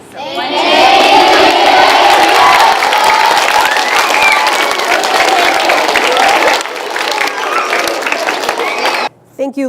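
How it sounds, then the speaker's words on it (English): Fifth graders at an elementary school art unveiling clap and cheer loudly for a teacher, a dense burst of applause mixed with children's shouts that holds for about nine seconds before cutting off abruptly. "let's say thank you and then clap for Mrs. Plaisance"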